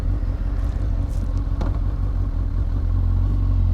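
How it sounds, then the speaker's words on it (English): A dirty motorcycle warming up, its engine idling with a steady low, throbbing rumble that holds loud and even throughout, with a brief faint clatter partway through. "Bike's still warming up."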